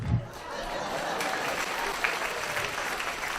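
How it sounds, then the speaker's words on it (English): Steady applause from a theatre audience at a live stand-up comedy show, a dense continuous patter of many hands filling the space from start to finish with no talk over it. "I'll do this while you clap."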